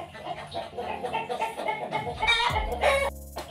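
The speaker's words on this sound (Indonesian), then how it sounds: "ini banyak banget suara ayam bapakku" Chickens clucking close by in a backyard, a busy run of overlapping clucks and short cackles from several birds, ending in a louder squawk.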